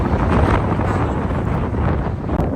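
Steady wind gusts blow across an outdoor flower garden with tulips in the evening, a continuous low rumble of wind buffeting the microphone throughout, with no talking.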